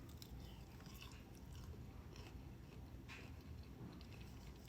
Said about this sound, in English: I don't know if you can hear how crunchy they are, but they're very crunchy.